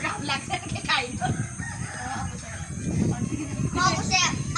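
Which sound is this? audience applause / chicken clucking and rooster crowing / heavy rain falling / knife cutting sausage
chicken clucking and rooster crowing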